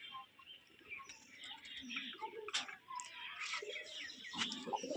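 Pigeons kept in an open yard chirp and call softly at a distance, with brief coos and twittering in an irregular, busy stream of faint bird sounds.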